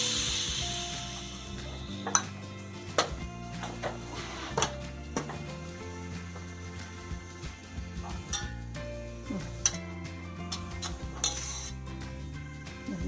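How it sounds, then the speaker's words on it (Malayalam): A pressure cooker for horse gram curry is opened, followed by repeated metal clinks and clatter of the lid and utensils, sharp irregular knocks scattered over a low steady kitchen background. "നമുക്ക് കുക്കർ തുറന്ന് നോക്കാം."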